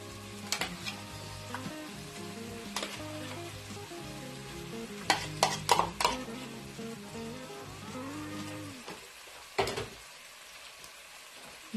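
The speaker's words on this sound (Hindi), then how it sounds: "तमाम चीजों को मिक्स करें।" Yogurt, chilli, coriander powder and salt being stirred together for a mutton masoor dal, with scattered spoon scrapes and clinks over a faint sizzle, all under steady background music with no talk.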